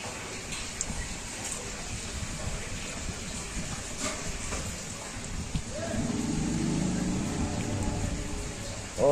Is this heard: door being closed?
no